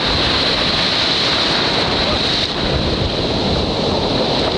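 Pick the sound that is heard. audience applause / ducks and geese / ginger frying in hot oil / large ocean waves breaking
large ocean waves breaking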